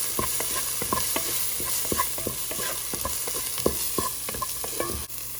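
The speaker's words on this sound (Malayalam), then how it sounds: "സവോളയും പച്ചമുളകും ഒക്കെ ചെറുതായിട്ടൊന്ന് വഴന്ന് വന്നിട്ടുണ്ട്" Onions, green chillies and capsicum sautéing in a pan, a constant bright sizzle under quick, repeated stirring taps and scrapes of a spoon against the metal, close and busy with no speech.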